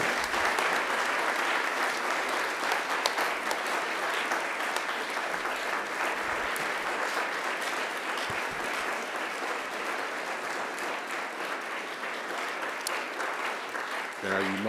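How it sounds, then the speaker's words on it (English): Graduates at a graduation ceremony turn to face their family and friends and applaud them. The clapping is dense and sustained, a steady wash of many hands that holds at an even level for about fifteen seconds. "give them a mighty round of applause in appreciation"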